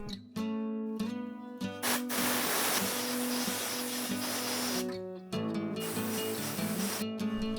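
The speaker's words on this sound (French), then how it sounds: "le brûleur est nettoyé avec de l'air comprimé pour que les ouvertures soient débouchées" Gas boiler burner blasted with compressed air during servicing, sharp bursts of hissing air, the longest lasting several seconds, close and loud with brief gaps between blasts.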